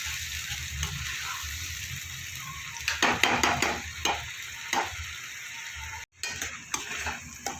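Ground spices fry in hot oil for an egg curry, a steady sizzle broken by the brisk scraping and knocking of a spatula stirring through the pan.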